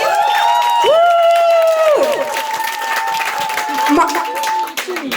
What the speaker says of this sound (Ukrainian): Оплески Олесі.